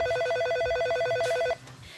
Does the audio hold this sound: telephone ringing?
yes